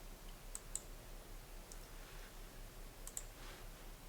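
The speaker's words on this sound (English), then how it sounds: "So I'm going to click on my entity tool." A computer mouse clicks faintly a few times, a handful of small, light clicks over a steady background hum.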